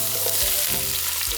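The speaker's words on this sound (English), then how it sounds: "you're gonna test that by touching your little onion in there and see if it sizzles" Onion pieces sizzle in a hot pot as the base for a Cajun tomato gravy, making a steady, loud, close-up hiss of frying with soft crackles running throughout.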